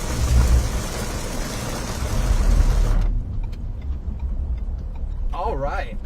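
Heavy rain from a bad storm drums on a parked car as a dense, loud wash for about three seconds. It then drops to a quieter patter with scattered ticks while a voice begins near the end.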